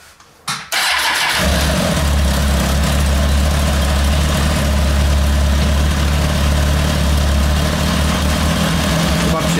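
A Kawasaki ZX-10 sport motorcycle engine with a charging fault cranks, catches and settles into a loud, steady idle that runs on unbroken close to the microphone.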